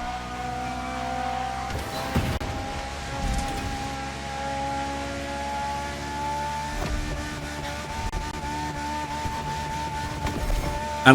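A drifting all-wheel-drive car in The Crew Motorfest racing game gives a loud, steady engine drone with sustained tonal whine that holds throughout, with a few brief surges and no talking.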